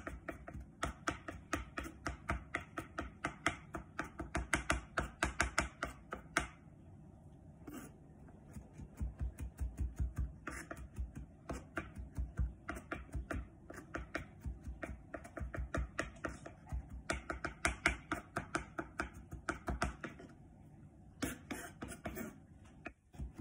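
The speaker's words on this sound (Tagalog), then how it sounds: "Dikdikin mo siya." Rapid, steady knife chopping on a board, finely mincing ingredients for a mustard and fresh lemon juice sauce, with dense rhythmic taps continuing with brief pauses, close and fairly loud.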